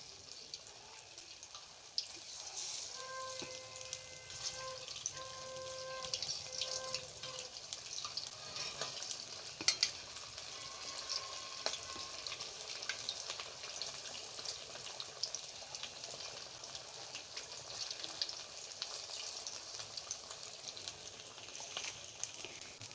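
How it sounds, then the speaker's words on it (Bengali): Kakrol (spiny gourd) chops frying in oil, a steady faint hiss and crackle of sizzling that runs throughout, with occasional small pops and light clinks. "দেখুন বন্ধুরা, আমার চপগুলো ভাজা হচ্ছে।"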